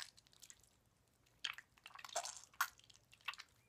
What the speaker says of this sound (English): you just squeeze it to get the liquid out